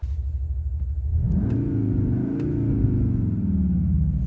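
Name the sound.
performance car quad exhaust engine noise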